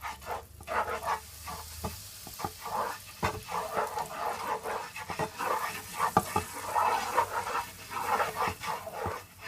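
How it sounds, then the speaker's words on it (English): Flour is stirred into chicken gravy in a pot, with scraping and soft sizzling strokes in an uneven rhythm, close and moderately loud, with a few sharp knocks and no talking. "Just gonna give it a stir."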